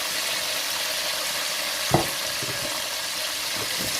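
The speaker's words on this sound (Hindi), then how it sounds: "अब इसमें प्याज डाल देंगे और प्याज को हम हल्का सा डार्क ब्राउन नहीं करना, सिर्फ ब्राउन करना है" Onions fry for a vegetable pulao with a steady, close sizzle that fills the whole stretch. A single knock sounds against the pan partway through, followed by a few faint stirring scrapes. Nobody talks.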